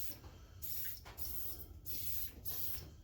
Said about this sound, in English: I just have some Super Tech lubricant. You can get it for a couple dollars at Walmart. It's cheap, easy to use. You can just spray it.